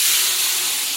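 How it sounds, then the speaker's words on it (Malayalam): Water poured into a hot pan of ghee and spices for dum biryani, giving a brief, loud, steady burst of steam hiss. "വെള്ളം ഒഴിച്ച് കൊടുക്കാം."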